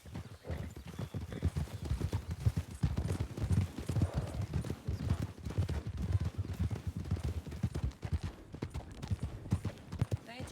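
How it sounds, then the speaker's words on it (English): Horse hooves clip-clop steadily on a road in the Western role-play game Red Dead WildRP, a close, continuous rhythmic clatter of a saddled horse with no talking. "Saddled horse in the road over here."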